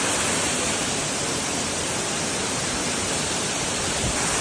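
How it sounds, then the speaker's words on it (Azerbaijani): The 7 Gözəl waterfall in Qabala roars as a dense, continuous rush of falling water, loud and unbroken from start to finish. "Gelmişik 7 Gözəl şəlaləsinə"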